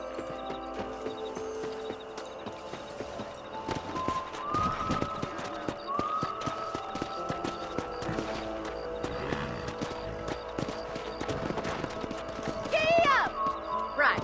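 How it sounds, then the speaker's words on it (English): Horses galloping in the Red Dead Redemption video game, steady clip-clop of hooves under game music, with a brief whinny and voices talking over the ride. "Let's mount up and take a look around."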